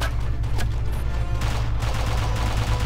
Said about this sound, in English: Just James Bond's like staring at the sky, firing bullets.